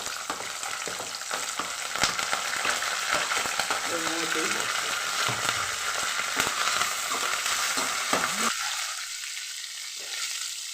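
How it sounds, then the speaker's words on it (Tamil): Onions sizzle and crackle steadily in hot oil with fried dal, green chilies and curry leaves, loud and close, with faint stirring scrapes; the hiss thins out near the end. "நான் இன்றைக்கி வெங்காயம் போட்டு தான் தாளிக்க போகிறேன்"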